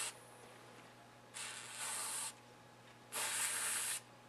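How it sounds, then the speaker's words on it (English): Two separate hissing bursts of penetrating oil sprayed from an aerosol can onto a seized snowblower impeller shaft in a quiet shop, the second burst louder, with a faint steady hum underneath. "Now what I'm going to do is spray some penetrating oil here"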